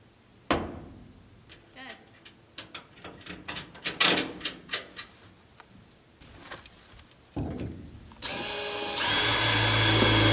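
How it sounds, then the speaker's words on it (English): A power drill bores holes for security bars on a shipping container. It comes in short, repeated bursts with clanks of metal between them, and at the end there is a loud, continuous run of the drill. "I'll go ahead and drill through the top ones and get them put in"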